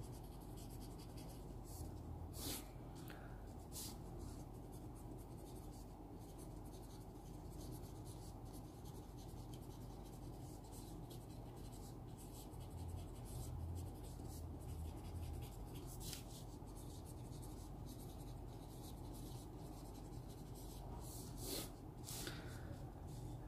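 Kaweco All Rounder fountain pen writing on paper, steady faint nib scratching with strokes and lifts repeating for over twenty seconds in a quiet room.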